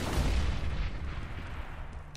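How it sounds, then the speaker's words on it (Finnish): Flashbang grenade going off in CS:GO: a loud, broadband blast with a deep low rumble that slowly fades over about two seconds. "Flashbang."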